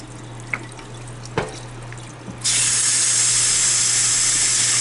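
Tap water gushes into a sink to rinse a plate sticky with syrup. After a few faint clinks, a steady, close hiss of running water starts and continues.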